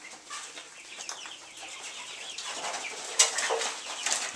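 Chicks cheep and cluck in a barn basement, a busy flock of light, scattered calls close by with a brief sharp peep and faint flutters.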